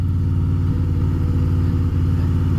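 A stock 2012 Harley-Davidson Fat Boy rumbles steadily while being ridden, its deep engine drone continuous and loud throughout, mixed with wind noise and no talking.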